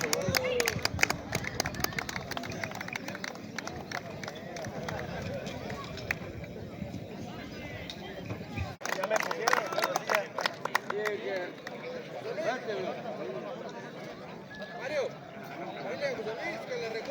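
An audience applauds with dense, brisk clapping that carries on for many seconds, pauses briefly, then swells again, with voices murmuring and calling out in the background.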